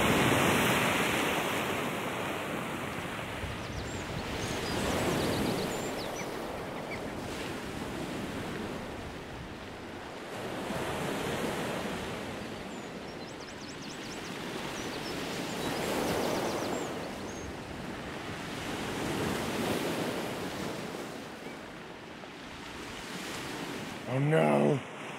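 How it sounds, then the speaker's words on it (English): Ocean waves roll in and crash on the shore in slow, repeating surges, a steady roar of surf rising and falling. "The waves are a lot rowdier now than they were yesterday."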